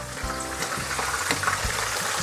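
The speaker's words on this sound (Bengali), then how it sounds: "এবার এই মশলাটা একটু ভেজে নিব" Garlic and ginger spice paste with chopped onion sizzles in a hot pan, a steady close frying crackle with occasional stirring knocks and no voices.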